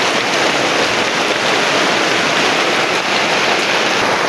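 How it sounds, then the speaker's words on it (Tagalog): Heavy rain pours down in a dense, unbroken hiss across the whole stretch, loud and steady, on a farm where bamboo shoots are being cooked. "Lakas ng ulan"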